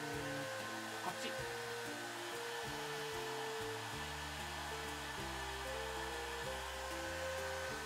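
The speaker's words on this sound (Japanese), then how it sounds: "まずはねドライヤーで温めてください" A household hair dryer blows hot air steadily and close by while a snowboard sticker is warmed, a constant whooshing drone with a dense low hum that stays level throughout, with no talk over it.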